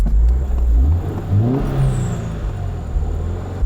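Subaru WRX turbo engine inside the car, revving up and easing off as it goes in and out of boost, a steady close drone with rising and falling pitch sweeps throughout.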